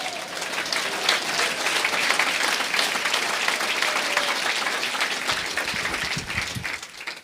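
Church congregation giving sustained, vigorous applause for Christ Jesus during a service, a full, steady roar of many clapping hands lasting several seconds before tapering off.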